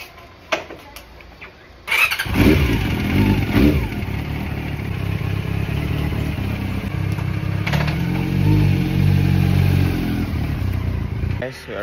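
A motorcycle engine starts after a few light clicks and knocks, then settles into a loud, close, steady running drone with slight rises in revs.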